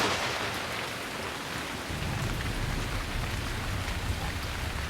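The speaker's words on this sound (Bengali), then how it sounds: "বৃষ্টি আবার বাড়ছে।" Heavy rain with thunder, a dense steady downpour hissing throughout, a low rumble swelling in partway and continuing under it, with no voices.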